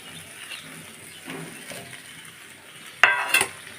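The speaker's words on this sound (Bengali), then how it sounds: "টমেটোগুলো দিয়ে আমি একটু ভালোভাবে ভেজে নেব" Tomatoes fry with spices in a pan for a thin fish curry, a soft low sizzle with light stirring, then a sudden loud clatter of a utensil against the pan near the end.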